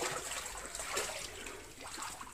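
Water from an underground river runs through a stone tunnel beneath a cathedral, a steady, moderately faint trickling and rushing that fills the short stretch with no talk over it.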